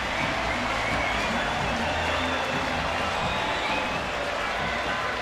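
A sold-out baseball stadium crowd roars with cheering and scattered applause, a dense, continuous wash of noise that stays loud and steady throughout, with no clear voices standing out.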